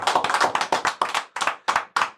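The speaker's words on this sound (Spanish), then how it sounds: "cerremos con un aplauso para ustedes, para sus familias y para todo el equipo" A small group claps by hand to close a Spanish-language podcast, the claps close and uneven, rising in bursts and thinning toward the end.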